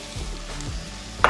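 Beef stir fry seasoned with curry powder, thyme and white pepper sizzles steadily in a pan as it is stirred, a soft continuous frying hiss with a sharper scrape or clatter near the end.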